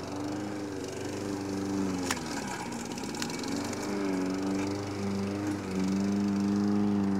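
A STIHL RM 655 VS walk-behind gas mower runs at a steady engine drone while its blade clips rocks, giving a couple of sharp, brief knocks over the constant hum; no one speaks.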